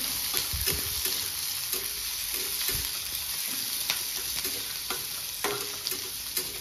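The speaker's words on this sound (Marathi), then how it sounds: "आता हा कांदा लसूण मी परतवलाय" Chopped onion and garlic sautéing in a pan for a spicy chilli paneer, a steady close sizzle broken by repeated scraping stirs of the spatula, with no talk.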